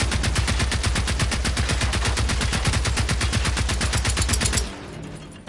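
Automatic gunfire in Gen Zero rattles out in a fast, even burst of loud close shots for several seconds, then stops abruptly, leaving a quiet tail with no speech.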